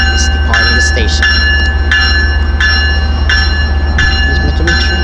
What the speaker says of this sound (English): This train is departing the station.